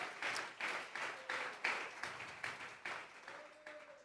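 A church congregation clapping in rhythmic bursts, about a dozen steady claps at moderate distance, fairly faint, with a faint voice underneath.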